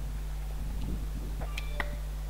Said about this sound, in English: Sorry, that is my phone.